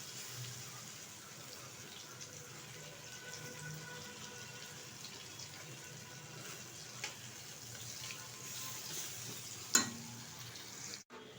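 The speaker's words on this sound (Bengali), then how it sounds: "উল্টো পিঠটা সেমভাবে ভেজে তুলে নেব" Prawn and chana dal fritters frying in oil, a soft continuous sizzle heard at low level throughout, with a couple of faint clinks near the end.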